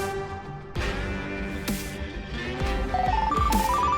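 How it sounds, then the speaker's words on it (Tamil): A telephone ringing in a Tamil television drama scene, repeated rising electronic ringtone notes over a background music bed, clear and fairly loud without talk. "என்ன மறுபடியும் போன் பண்றா?"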